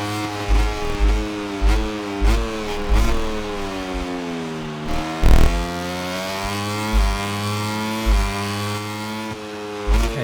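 Moto3 race bike engine in MotoGP 25 at COTA, screaming high and rising through repeated gear changes as it powers down a straight, with loud, close revs that dip sharply at each shift.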